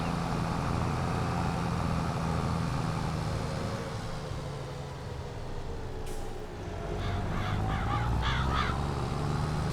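Crows cawing in a farming video game, a Farm Sim 22 session in the hills of Tuscany during spring planting, heard as a few harsh bursts late on over a steady low machinery rumble.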